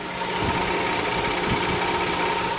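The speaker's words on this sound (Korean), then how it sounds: "그럼 바로 엔진 사운드 담아드리도록 하겠습니다." A Genesis G80 engine idles smoothly and evenly up close under an open hood, a steady low hum with a faint regular ticking, no voices.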